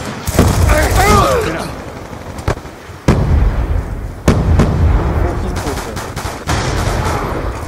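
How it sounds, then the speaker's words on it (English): A frag grenade bursts in Call of Duty Black Ops 2 amid a loud exchange of gunfire, with sharp repeated bangs and blasts overlapping shouted voices in a chaotic firefight. "Frag out!"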